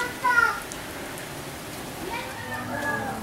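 Tropical rain falls steadily during a walk along the Punta Engano coast, a soft continuous patter with faint voices and other background sounds over it.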